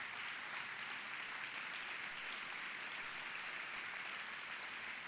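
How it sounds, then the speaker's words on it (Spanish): A church congregation applauding during a service, a steady, continuous wash of clapping held at an even, fairly distant level for the whole stretch. "Dele un fuerte aplauso a Cristo Jesús."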